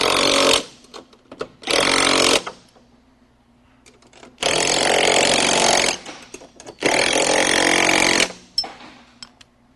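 A power tool drives a seat mounting bolt tight, loud buzzing bursts of one to two seconds repeated four times with quiet gaps and small clicks between.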